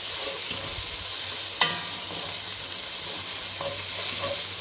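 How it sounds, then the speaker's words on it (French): Utensil stirring a simmering veal stew in a pot, continuous loud frying sizzle with occasional scraping knocks against the pot, no talking. "J'ai changé d'ustensile pour mélanger"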